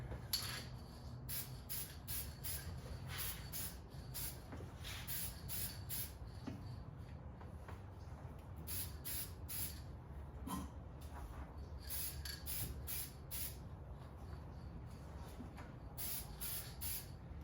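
Spray gun painting parts of a 1974 AMC Javelin with metallic paint, faint repeated hissing bursts of varying length separated by short pauses, quiet and with no talk.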